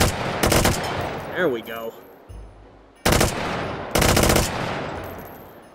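Full-auto gunfire from a firearm in the VR shooting game H3VR, loud close bursts of rapid shots separated by pauses, with someone briefly speaking between bursts.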